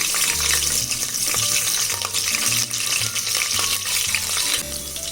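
Five green chillies drop into a little over a quarter cup of hot oil in a pot for Hyderabadi dum biryani, giving a steady, loud sizzle and crackle with faint stirring and clinks throughout.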